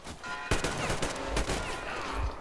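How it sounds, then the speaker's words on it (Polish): Gunfire in the Metro Exodus video game, a sentry firing at the player: a short burst of sharp shots in quick succession, loud and close, over a steady background of game ambience. "Strzelił do mnie dwa razy i koniec, nie?"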